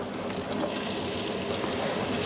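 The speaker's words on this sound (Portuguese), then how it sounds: "Vamos agora juntar a cebola e o alho para fritar um pouco também." Onion and garlic frying in a pan alongside chouriço and bacon, a dense, even crackling sizzle that holds steady throughout at moderate volume.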